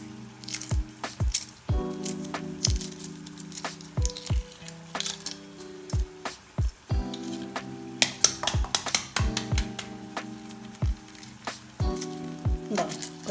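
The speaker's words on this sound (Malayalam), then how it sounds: "നല്ല പിടീന്ന് പൊളിച്ചെടുക്കാം" Shells cracked and peeled from fresh farm eggs boiled with vinegar and salt: a run of crisp, close crackles and small snaps, some in quick clusters, over steady background music.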